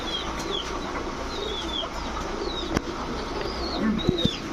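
Racer, giribaz and Danish pigeons at a seller's stall give soft low coos near the end, over a noisy background with scattered high bird chirps.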